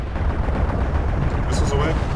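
Mech weapons and explosions in the MechWarrior Living Legends video game make a dense, loud barrage of heavy booming fire. The deep rumble is continuous, with no break.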